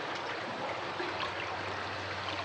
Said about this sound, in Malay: Ikut saya meredah banjir sini.